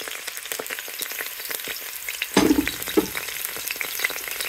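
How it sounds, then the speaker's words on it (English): Indomie noodles sizzling and crackling in hot oil, a continuous bright hiss with scattered pops, and a couple of louder clanks partway through. "let the oil be hotter, you know, so that I can get the sizzle out of it"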